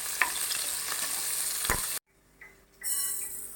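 Onion, green chilli and biryani masala sautéing in hot oil in a pressure cooker for paneer biryani, a dense steady sizzle with scraping stirs that cuts out briefly, then returns.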